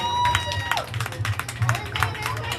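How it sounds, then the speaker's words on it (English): An outdoor church congregation claps hands in an uneven, scattered patter, crowd voices and talk mixed in throughout. "Clap your hands for them as they come back in the name of the Lord."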